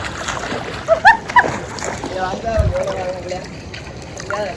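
Boys swim in a sunny river in the Konkan, with a few sharp splashes of water over steady outdoor ambience while someone talks nearby.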